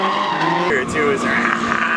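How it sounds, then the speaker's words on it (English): Brief burst of Toyota AE86 drift action: tires squealing under a straining engine at moderate distance, with faint chatter of people nearby. "let's see some drifting AE86s."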